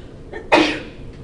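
A single sharp sneeze bursts out loudly and briefly after a short faint sound, with quiet room noise around it.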